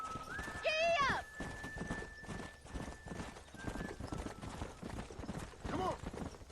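Horse hoofbeats in Red Dead Redemption clip-clop at a steady gallop under a spoken voice, with a neigh near the start and another near the end, mixed with game ambience.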